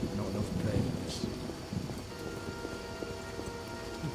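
Steady rain falls in the city of Vizima in The Witcher video game, a continuous patter of drops over a low rumble, with a few brief clatters on top and someone talking over it.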